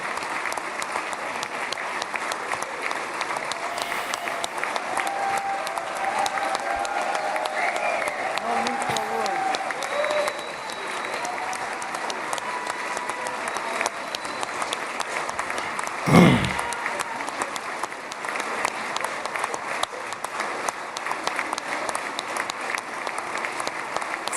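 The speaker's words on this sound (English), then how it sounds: "They're still clapping." Sustained applause fills the Knesset chamber in Israel, a dense unbroken crowd clapping that holds for the whole stretch, with one loud bump partway through and faint voices in the background.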